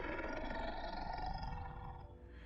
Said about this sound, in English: A low, guttural growl echoed through the canyon.